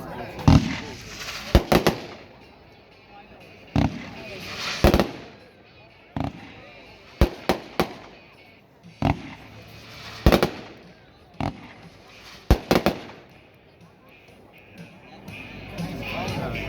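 World Class Polar Attack consumer fireworks at a demo in Aiken, South Carolina, repeated sharp cracking bursts and pops in irregular clusters, moderately distant, with people talking between the shots.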